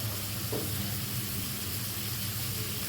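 Chicken pieces sizzle steadily in a hot pan while white sauce pasta is cooked, a continuous close frying hiss with faint stirring and no talking.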